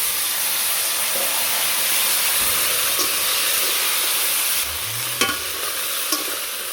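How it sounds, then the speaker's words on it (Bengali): Eggplant and sweet potato go into a sizzling pan for a sour village curry, a steady loud frying hiss with a few stirring clinks and scrapes near the end. "টক তরকারি রান্নার জন্য আজকে এখানে সবজি দিচ্ছি বেগুন আর মিষ্টি আলু"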